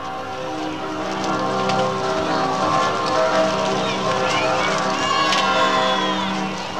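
Steady rain and wind outside the Westerkerk during a 1966 royal wedding, a continuous wash of noise with a murmuring crowd and faint scattered cheers mixed in throughout.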